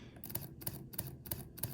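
A Leica M11 camera shutter fires in continuous low mode at full 60-megapixel resolution with live view on, giving five quiet, sharp mechanical clicks at a steady rhythm, close to the microphone.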